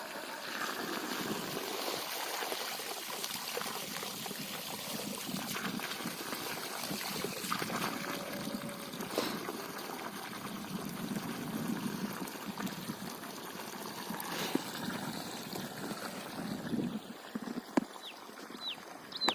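Water pouring out of a 3-inch delivery pipe from a 60 V 600 W BLDC solar water pump used for farm irrigation, a steady splashing, trickling flow heard throughout at moderate level.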